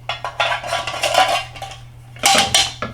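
Metal pieces of an expandable camping cook kit, a skillet, pot and lid, being handled up close, with several bright clanks and rattles in bursts separated by a short pause.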